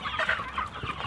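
Broiler chickens reared in woodland cluck and murmur steadily at close range, several birds overlapping in a busy, continuous chatter.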